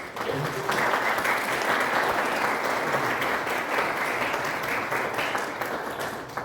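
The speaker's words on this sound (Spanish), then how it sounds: "Un aplauso, por favor." A crowd claps steadily for several seconds at an architecture graduation presentation, dense and even applause at a moderate distance.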